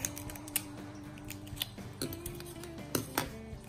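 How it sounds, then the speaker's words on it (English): Sharp cracking snips of scissors breaking Dungeness and red rock crab shells come at irregular intervals, close up, over a faint steady hum. "I'm gonna use my scissors"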